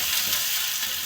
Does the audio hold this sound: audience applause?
no